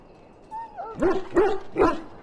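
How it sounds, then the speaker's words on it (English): An injured dog in the Dragon Age Origins video game whimpers with a thin rising whine, then gives three short, close yelping barks in a row, with no talking. "Now I can treat the dog properly, poor fella."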